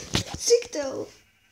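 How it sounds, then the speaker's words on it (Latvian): A sheep in Minecraft played on a phone gives a short, wavering bleat at close range, preceded by brief clicks and a moment of talk, then fades out quickly. "Aitās, vēl viena Aitā!"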